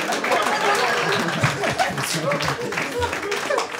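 Audience at a Polish stand-up comedy show bursts into sustained, dense applause mixed with crowd chatter, loud and close throughout.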